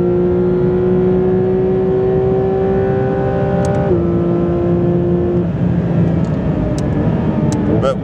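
McLaren 750S supercar on a race track, its engine note rising steadily under hard acceleration with a sharp gearshift drop partway through, loud and close, likely from an onboard position.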